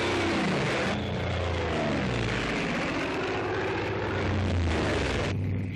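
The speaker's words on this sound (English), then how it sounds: "Hellcat, the deadliest thing on wing." Hellcat fighter plane, a US Navy World War II aircraft, roars steadily with a loud, continuous propeller-engine drone that swells slightly and holds throughout, with no voices.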